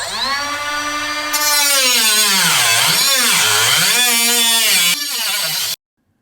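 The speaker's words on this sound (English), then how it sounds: "I went ahead and used the cutoff tool to cut the straight lines" A cutoff tool cuts straight lines through metal on an RV roof for a Dometic RTX 2000 air conditioner opening. It gives a loud, steady, high whine whose pitch sags and recovers as the cut bears down, ending abruptly.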